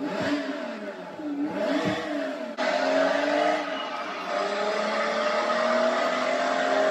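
An Audi A4 B7 car engine revs loudly and steadily, with rising and falling tones over a continuous drone; no talking.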